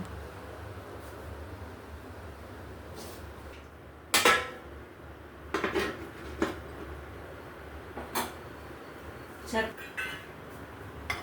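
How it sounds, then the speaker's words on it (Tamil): Semolina (rava) is roasted in coconut oil in a pan for upma, with a spoon clinking and scraping against the metal in sharp, irregular strokes. A low background hum continues underneath, with a voice faintly present. "நாங்கள் இப்போ தான் உப்புமா செய்யறதுக்காண்டி ரவை வந்து வறுத்துட்ருக்கோங்க"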